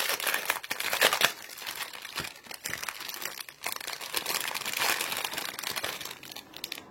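Crinkling, rustling plastic packaging as a paint-by-number kit is opened, a continuous close-up crackle with sharper crunchy bursts throughout and no speech.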